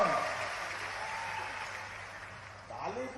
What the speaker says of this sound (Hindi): ताली वाली बजा के बताओ